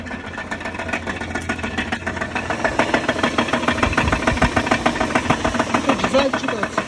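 A Mitsubishi Pajero engine idles low and steady, with a faint, regular knock ticking through the running note. The sound gets slightly louder partway through, and a voice can be heard nearby.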